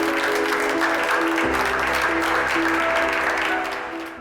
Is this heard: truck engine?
no